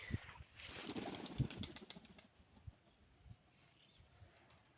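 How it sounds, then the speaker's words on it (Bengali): Giribaz flying pigeons are released and take off in a short flurry of flapping wings, then fade to quiet outdoor ambience near farmland. "তো যাই হোক আমরা কবুতর ছেড়ে দিই"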